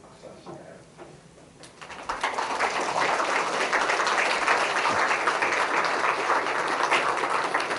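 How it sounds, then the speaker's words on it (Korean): A church congregation breaks into applause, starting quietly and swelling after a couple of seconds into broad, sustained clapping from a large room full of people. "격려하고 환영하는 마음으로 박수하실까요?"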